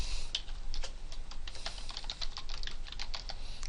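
Fingers tap quickly on a computer keyboard, a close run of light, crisp key clicks in an uneven rhythm, with no voice over them.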